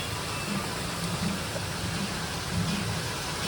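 Steady rain falls during the rainy season in Bali, a constant even hiss of drops with no voices.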